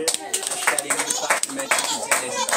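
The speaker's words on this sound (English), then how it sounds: "even clap for uh, the collectors" A church congregation at a Sunday service claps for the collectors, a steady run of dense hand claps at close range with voices mixed in.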